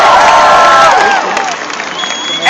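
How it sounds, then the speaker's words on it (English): Crowd at a Texas football torchlight rally cheering and shouting, loud and close, with many voices yelling together and fading somewhat toward the end. "that cheer you just gave was kind of weak"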